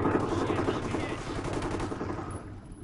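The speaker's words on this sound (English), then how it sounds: "I hear someone shooting." Rapid gunfire in a first-person shooter video game, dense bursts of automatic shots rattling continuously, fairly loud and near, tapering off toward the end.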